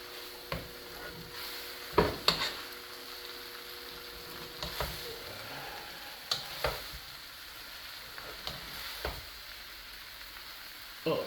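Costco chicken yakisoba noodles are stir-fried in a pan: a soft, constant sizzle runs underneath while irregular scraping and clattering stirs break through every second or two.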